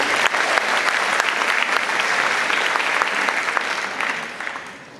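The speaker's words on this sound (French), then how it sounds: "Ça s'applaudit." Dense, steady applause from an audience at a benefit concert of two pianos and a violin, loud and sustained before tapering off at the end.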